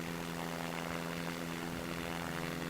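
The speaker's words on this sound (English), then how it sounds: "Listen to the power of my engine." A steady, droning propeller airplane engine from the game Simple Planes hums continuously at moderate loudness, with a synthetic, game-like tone and no voices.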